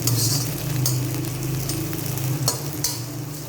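Continuous sizzling of onions frying golden brown in hot oil, close up, with occasional stirring scrapes and clinks over the crackle.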